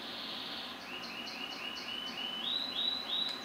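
Small birds chirp outdoors in a quick, high twittering run of short calls, moderately near and faint over a steady hiss of background noise, with nobody speaking.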